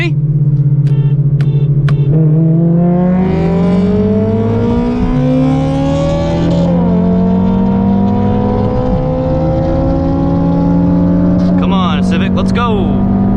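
A 2020 Honda Civic Si and an AP1 Honda S2000 accelerate hard side by side in a race, engines rising steadily in pitch through gear changes, loud and close, with speech mixed in.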